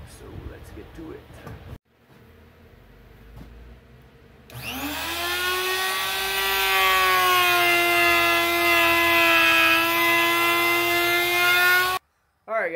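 A router with a round nose bit spins up with a rising whine, then cuts wood steadily at a high pitch for several seconds before stopping abruptly.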